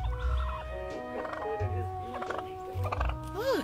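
A turkey gobbles repeatedly in rapid warbling bursts beside a mail truck, close and loud, with a low rumble underneath.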